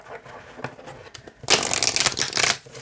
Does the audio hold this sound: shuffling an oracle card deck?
yes